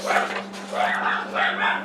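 A house dog barks and yips at movement outside, several muffled barks in quick succession heard from a distance over a steady electrical hum.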